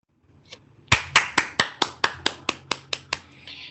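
About a dozen crisp, evenly paced hand claps from a single person at a tribute event, close and distinct, with no crowd joining in.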